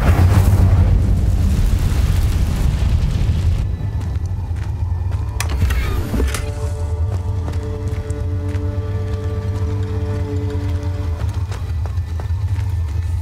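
The Incendio fire spell cast in the game Hogwarts Legacy: a loud, roaring whoosh of flame with a deep rumble that cuts off sharply, then a short crackling burst and a low steady hum underneath.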